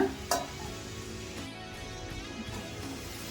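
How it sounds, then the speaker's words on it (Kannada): Eggplant frying in oil in a pan, a soft steady sizzle with a few sharp clinks of a utensil stirring against the pan near the start and again later. "ಬದನೆಕಾಯಿನೂ ಎಣ್ಣೆಲೆ ಬಾಡಿಸ್ಕೋಬೇಕು."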